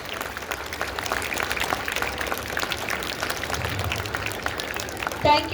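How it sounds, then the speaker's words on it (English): Children applaud at a Christmas celebration, a steady patter of clapping from a crowd held at moderate volume throughout, with a brief louder bump near the end. "Please give a huge round of applause"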